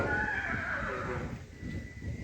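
A horse lets out a loud, close whinny that rises and then trails off over about two seconds, with faint background noise beneath.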